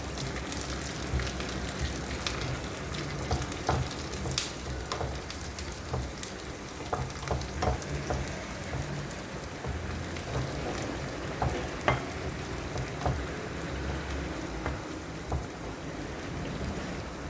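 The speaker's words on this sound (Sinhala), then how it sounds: "රතු ලුණු ටික මේ විදිහටම බැදෙනකොට මම ඒකට එකතු කරගන්නවා කපාගත්ත වේලිච්ච මිරිස් ටිකක්." Red onions and chopped dried chillies frying in oil in a pan, a steady close sizzle with intermittent light clicks and scrapes of stirring throughout.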